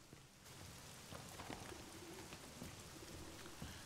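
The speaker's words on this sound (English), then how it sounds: "I like the rain" Steady rain hiss in the horror video game The Medium, a continuous wash of falling drops with faint scattered chirps and low rumbles underneath, no voices.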